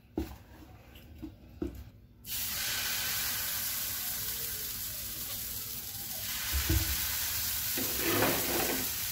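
Dosa batter hits a hot nonstick tawa and bursts into a steady, close sizzle after a few light knocks and clinks, the frying hiss swelling slightly toward the end.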